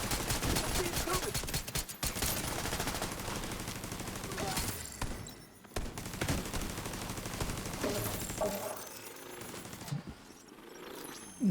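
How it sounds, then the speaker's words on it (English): A turret in a video game firing repeated bursts of rapid gunfire, loud and dense throughout, with a few brief gaps between volleys and a voice talking over it. "why is the turret shooting at like nothing?"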